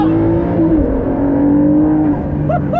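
A 2019 Ford GT's engine pulls hard while accelerating on a drive. Its loud, close, sustained drone holds a steady pitch, dips slightly, then rises again, and a couple of brief higher whistling sweeps come near the end.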